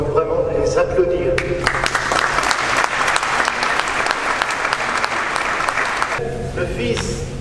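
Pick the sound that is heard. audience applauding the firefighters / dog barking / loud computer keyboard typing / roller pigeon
audience applauding the firefighters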